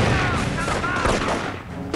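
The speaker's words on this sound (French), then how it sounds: "Ah, une petite grenade, boum." Battle sounds in the Company of Heroes video game: bursts of gunfire and a grenade blast crackle loud and dense over a couple of seconds of combat noise.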